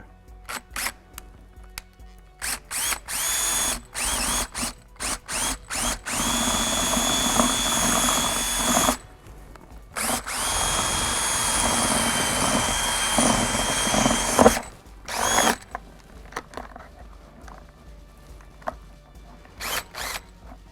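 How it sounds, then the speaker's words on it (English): A screw gun with a 1/4 inch bit whirs in repeated bursts, drilling out a ski boot rivet, with long stretches of steady high-pitched drilling broken by brief pauses and short starts and stops. "To drill out the rivet, I like to use a screw gun and a 1/4 inch drill bit."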